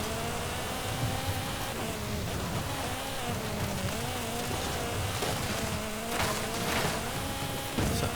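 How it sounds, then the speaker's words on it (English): A 2015 MG MG3 hatchback in Forza Horizon 5 drives off-road with a steady, buzzing engine drone that rises and dips slightly with the throttle, continuous and close throughout. "Certainly sounds like a rally car though."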